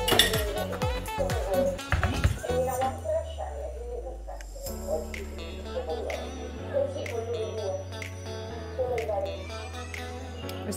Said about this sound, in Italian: adesso sistemiamo in un pollino a maglia fina. Dobbiamo colare le verdure e conservare il liquido di cottura.